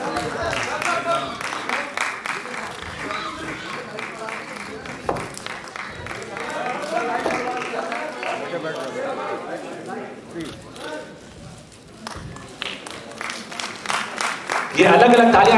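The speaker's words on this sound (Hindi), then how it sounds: "ये अलग अलग तालियां अच्छी नहीं लग रही" Scattered, uneven clapping from an audience at the Kaifi Azmi award ceremony in Lucknow, a thin patter of separate hands mixed with crowd murmur and a voice talking over it, swelling briefly near the end.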